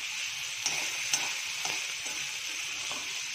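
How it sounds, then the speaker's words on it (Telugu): Ingredients for batani chaat frying in oil, a low steady sizzle with occasional faint stirring taps, close and unaccompanied by speech. "ఇవి ఫ్రై అవ్వాలి."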